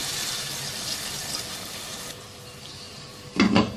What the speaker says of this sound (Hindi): हस्बे ज़रूरत पानी शामिल कर लेना है।